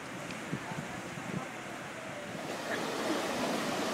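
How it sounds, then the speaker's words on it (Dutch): Waves roll and wash through an indoor hotel wave pool in a continuous, soft surging rush that swells slightly louder toward the end, with no talk over it. "En dit is het golfbad."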